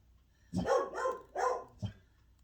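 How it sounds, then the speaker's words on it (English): A dog gives a short run of three deep barks followed by a fourth quicker one, moderately close indoors. "That's my attack dog, Moose."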